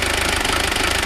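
Diesel engine of a 1995 Mazda Bongo Friendee, freshly fitted with a cylinder head and with air in the injectors, idles roughly with a loud, fast, knocking pulse close by.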